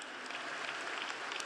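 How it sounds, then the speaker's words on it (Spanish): An audience at a congress against fascism applauds for the Palestinian people, a dense, steady wash of clapping heard faintly from a distance. "pedir un minuto de aplauso para el pueblo palestino"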